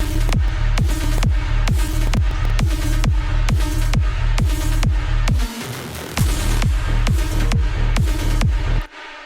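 An electronic dance track plays loudly, with a pounding four-on-the-floor kick, a steady pulsing beat, a short breakdown past the middle and an abrupt stop at the end.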